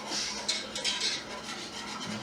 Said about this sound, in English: Like I said, just keep whisking it.